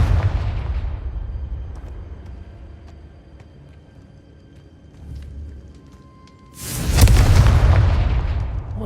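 A Confringo blasting spell explodes in the Hogwarts Legacy video game, giving a loud, sudden boom that bursts in near the end and rolls off. Before it comes a quieter stretch of low rumble and a softer thud.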